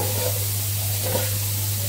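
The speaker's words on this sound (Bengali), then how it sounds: "সেমাইটা ভাজা হচ্ছে এদিকে" Vermicelli (semai) frying in ghee in a home kitchen gives a steady, soft sizzle with occasional stirring scrapes. A low electrical hum runs underneath, and no one speaks.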